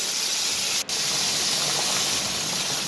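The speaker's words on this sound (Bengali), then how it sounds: "বেগুনটা এখন ফুটতে শুরু করেছে।" An eggplant curry begins to boil in a pan, giving off a steady, close hiss of steam and bubbling that runs continuously apart from a tiny break near the start, with no talking.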